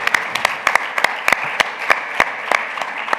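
A small audience at a women's sport congress gives applause, sparse distinct claps ringing out irregularly over a soft background of room noise.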